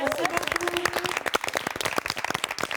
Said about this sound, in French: on peut les applaudir fort, merci beaucoup